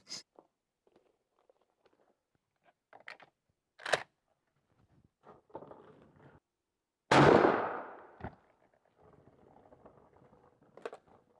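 A 20 gauge shotgun loaded with Winchester tungsten number 9 shot fires one sharp, loud blast that booms and decays over about a second, set among quieter handling clicks and rustles outdoors.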